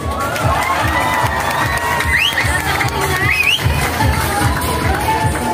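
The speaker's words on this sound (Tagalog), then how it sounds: "Bakit hindi niyo po sabay-sabay palakpakan at hiyawan" An audience at a Miss Gay pageant in Angeles City, Pampanga roars with continuous loud cheering and shouting, a dense crowd din lasting the whole stretch with higher excited whoops rising above it.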